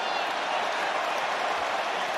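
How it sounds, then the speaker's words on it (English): Rugby crowd applauding a try-saving tackle in an England Autumn Nation Series match, a steady, dense wash of clapping and cheering from a large stadium audience that holds level for the whole stretch. "And the crowd are applauding."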